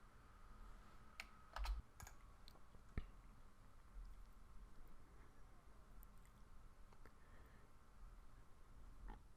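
Keys clack on a computer keyboard as a PowerShell command is typed, soft scattered taps with a couple of sharper clicks, close and quiet over a low steady room hum, with no voices.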